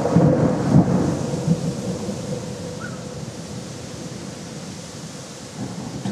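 Deep rumbling thunder rolls beneath steady heavy rain during a summer thunderstorm, loud and close, fading slightly as the downpour continues.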